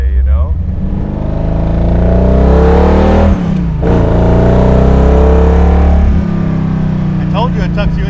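A 1958 C1 Corvette with a 572 big-block V8 accelerates, its loud, deep engine note rising in pitch through revs with a gear change midway, recorded close from inside as people talk over it.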